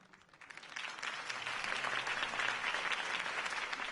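A crowd applauds after a campaign speech in the Telltale Batman video game, rising from quieter claps to a steady, full wash of clapping that holds at moderate level.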